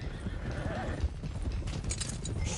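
A horse whinnies over steady clip-clopping hooves in the video game Red Dead Redemption 2, the hoofbeats running continuously under a soft neigh.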